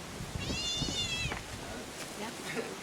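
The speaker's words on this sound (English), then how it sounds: "She meows at you now, right?" A female cat gives one drawn-out, wavering meow, fairly close, over a noisy background with faint voices and rustling.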